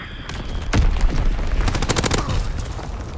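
A heavy explosion from a Fritz X bomb in Call of Duty: WWII, set around a flak tower, followed by dense rapid bursts of gunfire and booms that fill the rest of the short stretch loudly.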